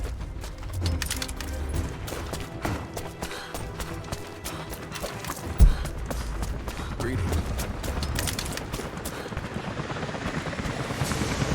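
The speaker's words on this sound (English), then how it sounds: "Jacob, helicopters are headed your way" Helicopters approaching in the video game Rise of the Tomb Raider, a continuous rotor drone with mechanical clatter and a single sharp impact midway.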